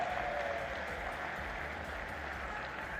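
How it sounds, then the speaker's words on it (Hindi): Rally crowd greeting Prime Minister Narendra Modi with applause in a tribal region, a dense, steady wash of many hands clapping at once, loud and sustained throughout without a break. "एक बार जोरदार तालियों के साथ स्वागत और अभिनंदन करें"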